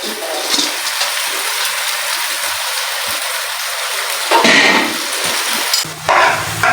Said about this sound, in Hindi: अब मैं इसमें पास्ता ऐड करूँगी।